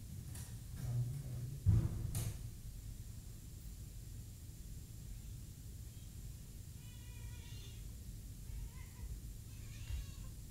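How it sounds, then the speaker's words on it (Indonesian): A hungry cat meows for food, a few short meows early on, fairly close but not loud, over a steady background hiss with little other sound. "Kucing minta makan, oi."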